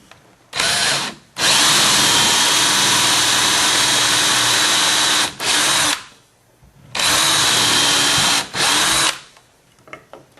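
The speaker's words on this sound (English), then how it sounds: "Okay, we're going to drill this next one." A power drill bores into wood while building a top bar hive, loud and close, with two long steady whines and shorter bursts between them, stopping and starting over about ten seconds, with no talking.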